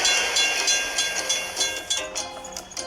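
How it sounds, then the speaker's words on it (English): A train rolls past a closed railroad crossing in a truck-driving video game, a steady rumbling rush with a faint rhythmic clatter that holds at moderate loudness throughout. "We have to wait for the train to pass."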